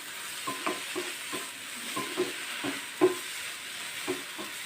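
Tomatoes and onions sauté in a pan with a soft, steady sizzle, broken by irregular spatula scrapes and taps, close but fairly quiet, with one sharper knock near the end.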